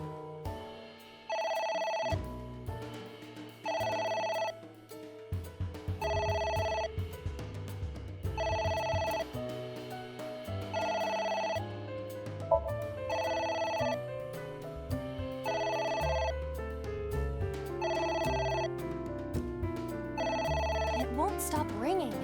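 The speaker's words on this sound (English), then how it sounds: "A phone. Should I pick it up?" A telephone rings repeatedly in the video game AI: The Somnium Files, regular bursts of bright bell-like trills over background game music, with a voice talking throughout.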